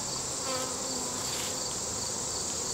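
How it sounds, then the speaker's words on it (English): Honey bees stirred up during a hive inspection, a close, steady, dense buzzing with a thin, high whine layered over it, unbroken throughout. "where I see bees kind of fired up"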